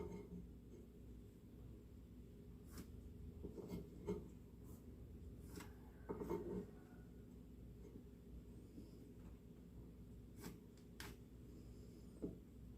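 Pencil marking the center on a piece of wood in a home workshop: faint, intermittent scratchy rubbing strokes, quiet and close, with small pauses between marks.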